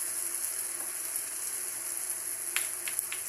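Eggs for a Mangalorean egg roast cook in a pan with a continuous soft sizzle and frying hiss, a few sharper crackles near the end, and no talk.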